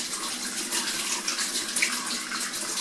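Newly installed clothes washer filling with water, a steady close rushing hiss of flow that stays even throughout, with no voices.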